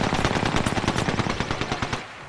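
Rapid automatic gunfire from Apex Legends, a dense burst of closely spaced shots ringing out loud and continuous for about two seconds before tailing off.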